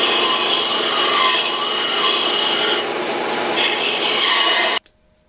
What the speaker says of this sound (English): leave on just enough material that I can do the final little shaping on the grindstone